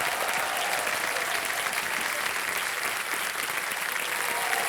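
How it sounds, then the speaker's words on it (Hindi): Sustained applause from a studio audience on the KBC quiz show set, loud and steady with no break and no talk over it. "तालियां बज जाए इनके लिए।"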